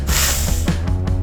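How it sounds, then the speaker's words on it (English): A spray bottle spraying, a loud close hiss that pulses a few times in quick succession over about a second, with no voices. "more spray bottle"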